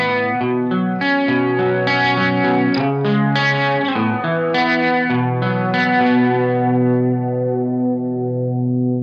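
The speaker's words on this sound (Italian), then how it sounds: "sembra quasi un chorus, un mega chorus." Universal Audio guitar pedal set to a doubler, giving a huge chorus-like sound: sustained, wide, shimmering guitar chords with a swirling modulated quality, played continuously and loud with no talking.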